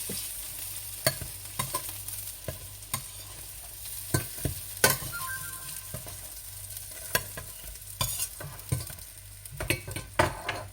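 Lamb rissoles coated in egg and flour fry in a pan with a steady, soft sizzle, while a utensil clicks and taps against the pan at irregular intervals throughout.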